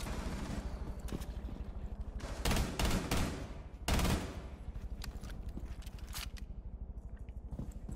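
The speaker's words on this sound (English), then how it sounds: "Why are y'all shooting each other?" Rapid automatic gunfire in the tactical shooter Rainbow Six Siege, a steady rattling stream of shots with several louder, heavier bursts in the middle; no talking.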